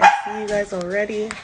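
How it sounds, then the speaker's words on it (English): Small dogs bark and yip briefly near the start, then a person talks over the remaining sound at a live reggae sound system stream. "Excuse my little dogs, them."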